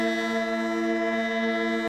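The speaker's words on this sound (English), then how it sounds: "A ship." A ship's horn sounds as a steady, sustained tonal blast with layered harmonics, loud and unbroken for nearly two seconds before cutting off abruptly.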